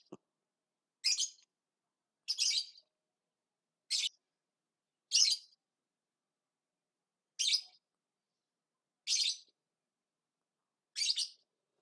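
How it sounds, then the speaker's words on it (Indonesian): A single bird chirps repeatedly in short, bright bursts, evenly spaced about a second apart against near silence. "Sorry ya berisik ada suara burung."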